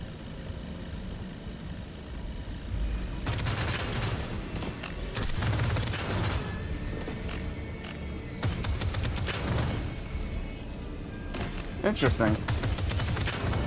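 Hellstorm gun firing in the sci-fi roguelite shooter Deadzone: Rogue, in repeated loud bursts of rapid gunfire separated by short pauses, with a voice talking briefly between the volleys.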